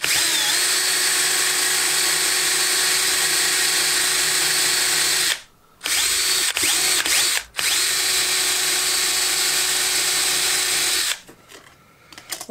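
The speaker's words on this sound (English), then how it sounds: "in theory I should be able to now drill the perfect holes" A power drill whines loudly while boring holes through a box guided by a template, running in long steady bursts with short pauses between, then stopping near the end.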